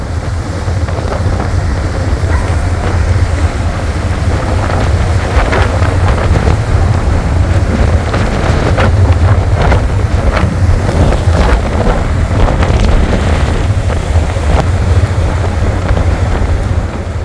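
Container ship Log In Jacaranda under way at night entering the Port of Buenos Aires while a tugboat approaches, heard as heavy wind buffeting and rushing water with a low engine rumble throughout, no voices.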